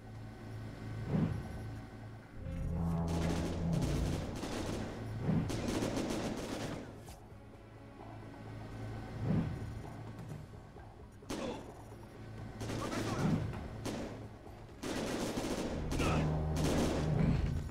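Gunfire in the video game Syphon Filter: Dark Mirror, heard as repeated bursts of rapid shots and thumping impacts spread throughout, clustered in several volleys with brief gaps between.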